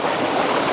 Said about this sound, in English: just one with a little bit of water just dripping down there in the background